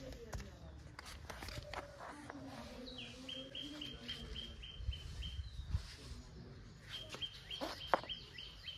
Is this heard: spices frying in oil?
no